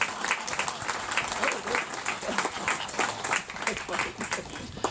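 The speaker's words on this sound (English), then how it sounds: "All right, a round of applause." An audience at a flamingo show at Ardastra Zoo in Nassau, Bahamas, gives a steady round of applause, many hands clapping in a dense crackle, with voices mixed into the crowd noise.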